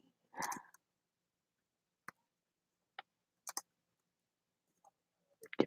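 Sparse, isolated keyboard clicks spaced a second or so apart, quiet and close, with a brief louder burst of handling noise near the start and a cluster of clicks at the end.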